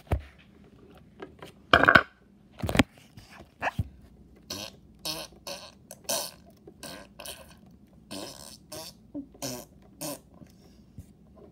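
A voice imitates farting noises with a string of wet, sputtering bursts of varying length, loud and close, separated by short pauses.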